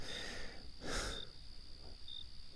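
Crickets chirping outside an open window on a cool night, a faint thin steady trill with a few brief brighter chirps, heard quietly behind a soft breath near the middle.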